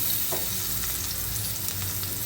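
Pieces of fish rubbed with turmeric and salt frying in hot oil in a pan, giving a dense, continuous close sizzle with faint crackles and no talking.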